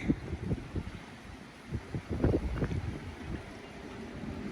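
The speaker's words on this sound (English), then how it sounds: "It is very, very windy." Strong estuary wind on the River Yealm buffets the microphone in uneven low gusts as a squall comes through, rumbling and swelling midway before settling into a steady rush.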